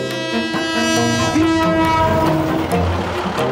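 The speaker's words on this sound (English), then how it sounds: "Several times daily when the train arrives, the entire market has to get out of the way." A train rolls through the Maeklong railway market in Thailand, a loud, close mechanical rumble with sustained horn-like tones and clattering wheels, no voices.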